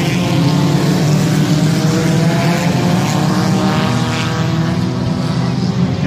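Mini stock race cars take the green flag at Wayne County Speedway, many loud engines roaring together in a dense, sustained drone close by.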